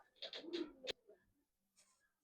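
A jelly-eyed Giribaz high-flyer pigeon coos softly and close by in a couple of short bursts, followed by a fainter call after a pause, with no talk over it.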